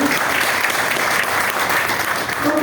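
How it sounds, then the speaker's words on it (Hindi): Sustained applause from an audience at a business presentation, dense and steady clapping throughout at a close, loud level with no break. "तो सब एक बार जोरदार तालियां मिले"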